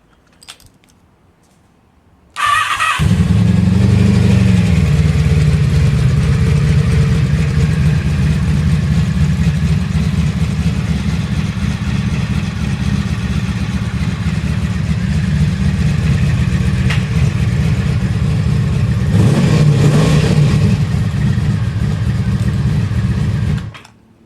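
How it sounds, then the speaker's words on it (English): A Honda Magna motorcycle engine starting after a fuel pump change, catching abruptly after a brief quiet moment and then settling into a loud, steady idle close by that holds for about twenty seconds before cutting off. "Bike will fire right up."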